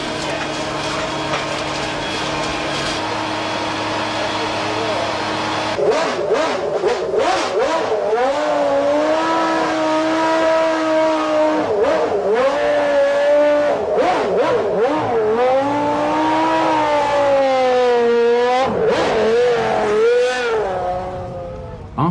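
Williams FW14 Formula One car with an improved Renault V10 engine and semi-automatic gearbox, loud howling engine rising and falling through gear changes and revs, with a distinct note sweeping up and down as the car passes and accelerates.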